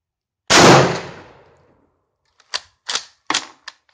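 A single loud rifle shot from an M1916 Spanish Mauser chambered in 7.62x51 NATO, a sharp blast with a decaying tail, followed a second later by four quick metallic clacks of the bolt being worked.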